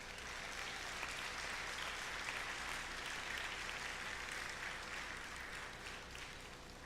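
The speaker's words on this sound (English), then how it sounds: "I think that deserves a round of applause as well" Steady applause from a high school audience at a spring band concert, sustained and fairly even throughout, dense and distant-sounding from a large crowd.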